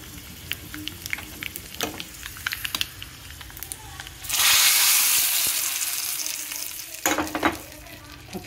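A hot tempering is poured into pappucharu lentil soup. Sparse clicks and taps come first, then a loud, sudden sizzle that burst up and slowly fades, followed by a few more clinks.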